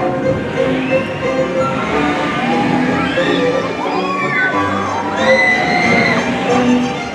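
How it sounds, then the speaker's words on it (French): A crowd of riders screams and whoops on an amusement park ride at Disneyland Paris, overlapping high shrieks rising and falling in waves, loud and sustained over a busy background din. "J'adore entendre les gens crier dans une attraction."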